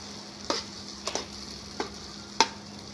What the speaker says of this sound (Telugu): ఇట్లా ఇది ఎంత మంచిగా ఫ్రై అవుతుంది